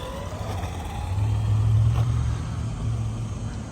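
A 1985 1/10-scale Nikko Pontiac Firebird RC car with a 360 motor on a top speed run, a moderate motor whine and rumble that swells midway then eases and briefly rises again.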